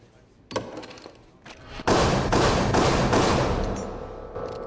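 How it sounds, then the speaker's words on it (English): Gunshots striking a vibranium shield in a superhero film: a sharp thud, then a sudden loud, sustained burst of shots and metallic ringing that slowly fades. "she's gonna shoot it."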